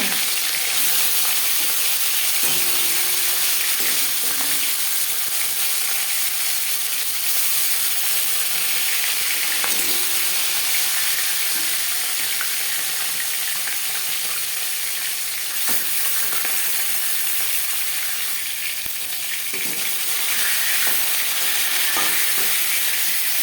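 Marinated tilapia fish sizzles steadily in hot refined oil in a pan, a loud, continuous crackling fry with occasional stirring clicks and no speech over it.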